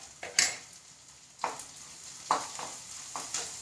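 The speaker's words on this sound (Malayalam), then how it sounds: "ഇനി നന്നായി ഒന്ന് വളണ്ടി വരട്ടെ നമ്മളുടെ ചെറിയ ഉള്ളി" Small onions with salt are sautéed and stirred in a pan, giving a steady sizzle under several clear scrapes and taps of a utensil against the pan, heard close up with no talking.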